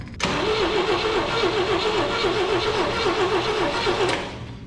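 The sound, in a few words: 1974 IH Scout engine cranking on jump box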